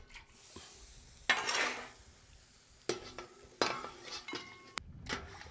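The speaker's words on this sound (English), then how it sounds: "Gotta get in here and stir it." Seasoned raw chicken for seafood gumbo stirred in a pot, with a spoon scraping and clinking against the metal in uneven strokes, plus soft sizzling between the louder scrapes.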